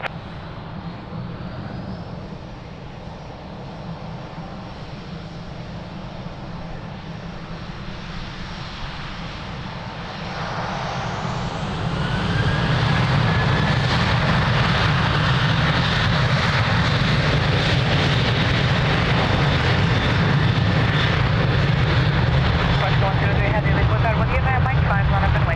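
A jet aircraft takes off from runway 02 at Lisbon Airport, its engine roar building from a steady hum to a loud, sustained full-power rumble that dominates the rest of the clip.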